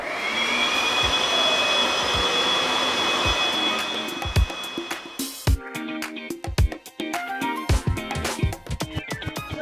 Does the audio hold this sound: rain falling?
no